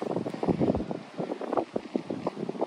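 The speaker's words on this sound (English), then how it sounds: "It's getting really windy." Strong wind gusts buffet the microphone outdoors on a sheep farm, making loud, uneven rumbling bursts with no speech.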